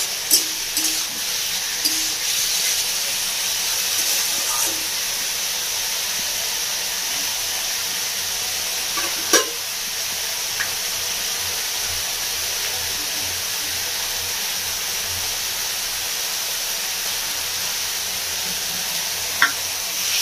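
Mixed vegetables sizzling in a pan for a paneer veg roll, a steady loud frying hiss with occasional sharp scrapes and clinks of stirring, no voice heard.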